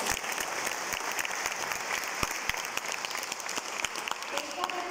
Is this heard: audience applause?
yes